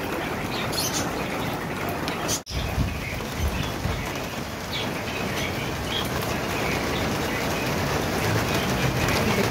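Heavy rain falling steadily outdoors during a hot-season downpour, a dense continuous hiss with one brief knock, no voices.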